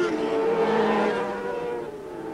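Several 750cc four-stroke racing motorcycles scream past on a 1988 British Superbike circuit, their engines loud, high-pitched and close. The whine swells and then fades as they move away.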